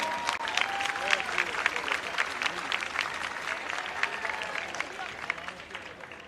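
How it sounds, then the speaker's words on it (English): A gym crowd at a high school boys basketball game applauds seniors on senior night, with sustained dense clapping that rises and falls, scattered cheers, and an announcer's voice carrying faintly over it. "let's give one more round of applause for our seniors"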